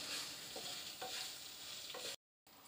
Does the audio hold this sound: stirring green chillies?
yes